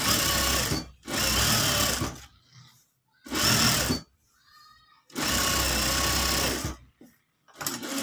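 A sewing machine stitching a simple shirt runs in four loud, steady bursts separated by short pauses, with faint handling noises in the gaps.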